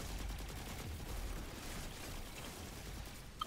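Dense, rapid gunfire from the video game Destiny 2 rattles continuously, a thick stream of overlapping shots with no talk over it.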